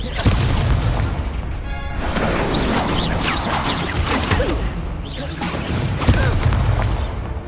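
Spell combat in the video game Hogwarts Legacy, a dense run of whooshes, booms and crashing impacts from explosive spells, loud and continuous with faint voices buried in the mix.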